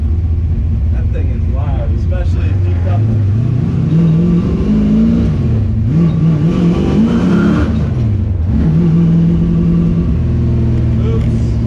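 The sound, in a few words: 1967 Mustang driving while bedding in new brakes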